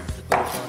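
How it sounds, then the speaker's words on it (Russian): Eggplant being chopped for a Romanian eggplant salad, heard as a couple of close, dull knife strikes on a board, the second one louder and followed by a brief rustle. "И измельчаем."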